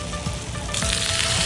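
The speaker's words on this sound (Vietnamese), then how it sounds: "Bột gạo gặp chảo nóng tạo nên tiếng xèo xèo quen thuộc." Loud, steady sizzling of rice-flour batter hitting a hot pan, a continuous frying hiss that swells slightly midway.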